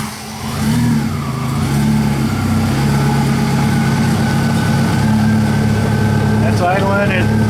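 A WAR Corsair replica aircraft engine idles steadily at about 1,000 RPM with a loud, even low rumble, and a voice talks briefly partway through.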